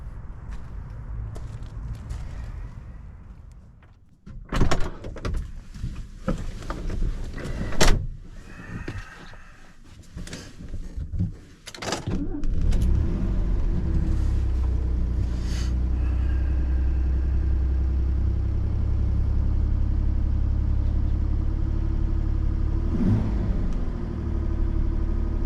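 Mint-condition vintage Mercedes Fintail: clicks and thumps of a door being opened and shut, some rustling, then the engine starting and settling into a steady low idle hum as the car sets off on a morning drive.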